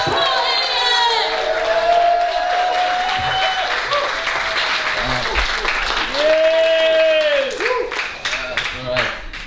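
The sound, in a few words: comedy audience applauding and cheering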